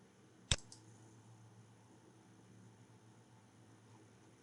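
A single sharp mouse click, close and quiet, followed by faint steady room hiss, as someone browses a newspaper archive website.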